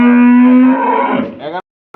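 A dairy cow at a cattle market gives a single loud, close, drawn-out moo that trails off after about a second and a half.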